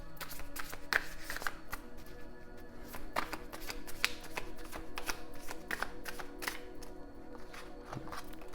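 Telepathy cards being shuffled by hand, a steady run of soft, close riffling and tapping strokes that keeps going with no voice over it.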